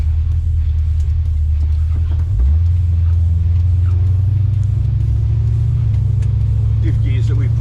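A V8 Holden Torana LX pro street car with second-hand 4.11 diff gears drives with a loud, deep engine rumble and a steady humming drone that steps up in pitch, with voices talking over it.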